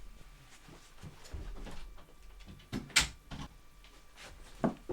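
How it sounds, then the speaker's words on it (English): A door swings shut with a single sharp knock in a quiet room, followed by a few softer bumps and faint handling sounds near the end. "Don't want to forget closing my door."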